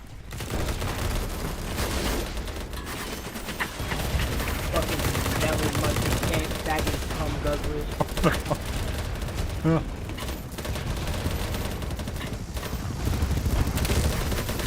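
Dense gunfire from a Battlebits multiplayer match keeps up through the whole stretch, with rapid bursts and scattered single cracks packed together at moderate loudness and occasional talk beneath.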